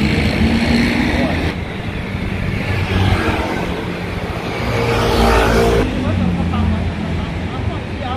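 Steady street traffic of cars and motorcycles rolls past near a road crossing, a continuous engine rumble and passing swells with a louder pass midway, under people talking.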